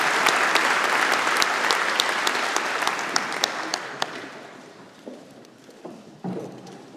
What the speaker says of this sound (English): have a round of applause for the MacEwan University Big Band.